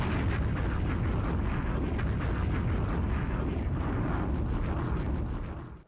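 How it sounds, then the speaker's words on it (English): Bomb explosion sound effect: a loud, sustained roaring blast with dense rumbling low end that holds steady for several seconds before cutting off abruptly at the end. "Drop a bomb on that."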